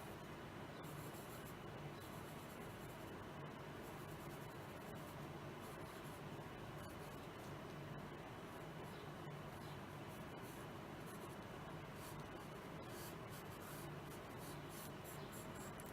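A pencil scratches steadily across paper while a face is sketched, producing soft continuous rubbing strokes with no pauses, close and faint, with a low background hum and no talking.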